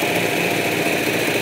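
A tractor engine running steadily at a fairly high pitch, a close, constant buzzing drone with no voices.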